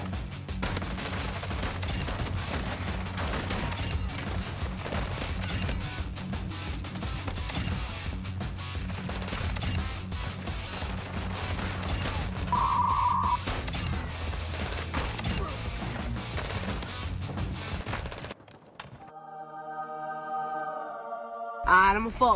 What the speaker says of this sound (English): It's to slide and shoot the shotgun at the same time.